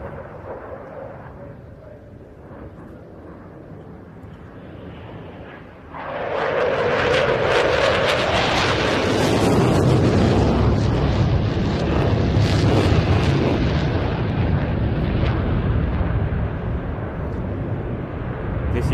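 Fighter jet with reheat at the Bournemouth Air Festival roars in loud and close, rising from a distant rumble into a sustained thunderous blast that lingers as it passes, with a commentator's voice faintly beneath.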